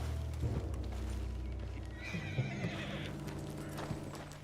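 A spooked horse in the video game Red Dead Redemption 2 whinnies sharply over steady hoof clip-clops and a low background hum, fairly close and alone without talk.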